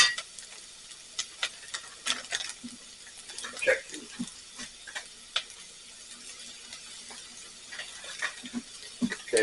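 Spices being stirred into sweated onions and garlic in a cast iron pan, with scattered scraping and light sizzling taps of a utensil, moderately close, under occasional talk.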